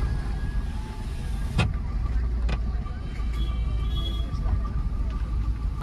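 A car rolls along steadily after a U-turn, its engine and road rumble low and constant, with a couple of brief clicks and knocks inside the cabin.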